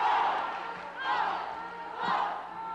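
A taekwondo crowd in Manila at a men's finweight bout yells "Filipinas", swelling in two loud surges over constant arena murmur.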